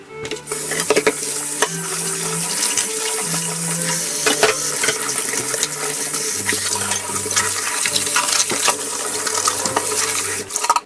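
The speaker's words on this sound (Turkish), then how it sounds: "Şimdi artık vakit kaybetmeden hemen bunları bir yıkayayım." Plates and glasses are washed by hand under a running kitchen tap, with a continuous hiss of flowing water broken by clinks and splashes as the dishes are handled. No one speaks.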